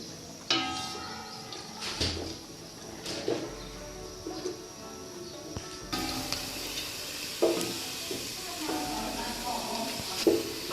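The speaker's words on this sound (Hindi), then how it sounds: "प्याज को हम घी में हल्का सा फ्राई करते हैं।" Onions fry lightly in ghee, a soft steady sizzle and hiss broken by occasional stirring clatters, with a voice heard at times over the cooking.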